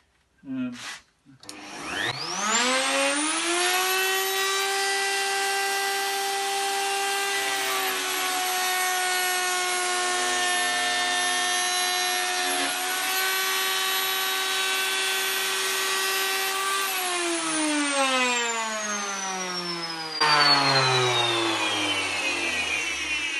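A power router fitted with one big ball-bearing cutter, spun up and running on wood during a narrowboat fit-out: a loud, steady high whine that rises at start-up, holds for about fifteen seconds, then winds down, with a brief voice near the end.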